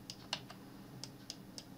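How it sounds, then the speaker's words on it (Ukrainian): Quiet computer keyboard presses during a 3ds Max tutorial, a handful of sharp, irregular clicks spaced apart over faint room hum, with no talking. "достатньо натиснути на клавіатурі клавішу Z у відповідному проєкційному вікні"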